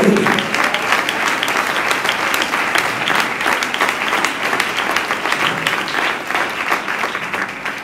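A church congregation breaks into loud, continuous applause during a Spanish-language sermon, with dense clapping that stays strong for several seconds and eases slightly toward the end.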